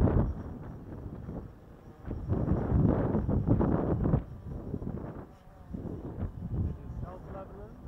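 Gusty wind buffets the microphone beside a drone flying against the wind outside Waco, with rough swelling rumbles rising and falling across the clip and a faint steady rotor whine underneath.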